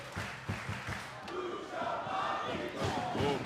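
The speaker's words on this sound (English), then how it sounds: "The crowd rallying behind Rocky." A wrestling crowd at a ladder match cheers and rallies, a loud massed roar of voices with a few thumps early on, swelling louder toward the end.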